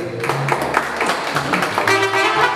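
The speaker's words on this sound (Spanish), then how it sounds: "El aplauso para los hermanos también bien fuerte." Applause rising at a mariachi birthday party for Raúl, a steady wash of clapping from the family crowd with music-like tones underneath, fairly loud and continuous.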